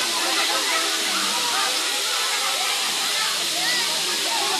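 Water pours down the falls at Bato Spring in San Pablo with a loud, steady, broadband rushing that continues unbroken, and a voice is faintly audible beneath it.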